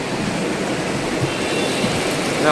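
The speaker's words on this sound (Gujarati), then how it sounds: "વરસાદ તો જો આ ધોધમાર જોરદાર વરસાદ પડે અત્યારે" Heavy monsoon downpour in Junagadh roars as a dense, steady hiss of rain, loud and close with no letup across the short stretch.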